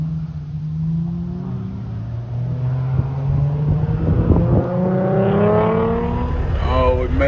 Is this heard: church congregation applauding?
no